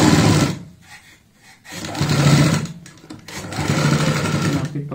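A sewing machine stitches a zipper box bag in three bursts of rapid, loud, close whirring, separated by short pauses.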